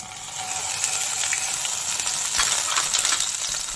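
Ginger paste sizzles and spits in a little white cooking oil in a pan, a steady close crackle and hiss for beet chops, with a few brighter pops and no talk.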